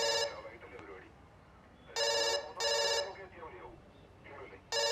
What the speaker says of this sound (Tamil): ஃபோன் அடிக்கிறதுல எடுத்துல